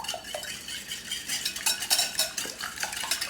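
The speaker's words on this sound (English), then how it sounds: "We're going to gently whisk these up, and then we'll set them aside." Six farm-fresh eggs are gently whisked in a small bowl, making a steady run of quick, light clinks and scrapes of the whisk against the bowl. The whisking sounds close and continuous, with no talking.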